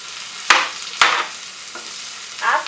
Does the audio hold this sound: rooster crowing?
no